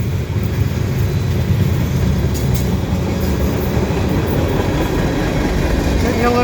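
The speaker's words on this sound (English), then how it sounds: "literally as soon as I got here, this train came" A CN westbound freight train passes at Dorval near Montreal on a cold day, a loud continuous roar of cars and wheels with clickety-clack rhythm, close to the track.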